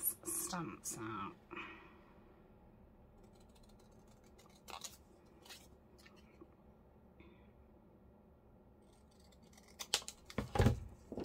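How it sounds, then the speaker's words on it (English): Scissors snip paper several times in quick bursts to cut out a stamp, close and crisp at the start and again near the end, with quieter rustling and soft handling in between. "let's cut one of these stamps out."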